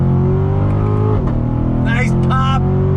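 A Chevrolet C7 Corvette Grand Sport's front-mounted engine drones loudly on throttle, heard from inside the car, its note rising and shifting as it pulls, with a brief sharper burst near the end.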